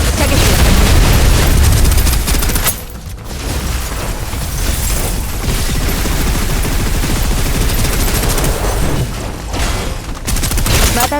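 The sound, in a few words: suppressive gunfire in the video game Snowbreak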